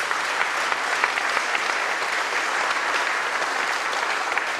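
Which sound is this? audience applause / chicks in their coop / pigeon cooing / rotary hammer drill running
audience applause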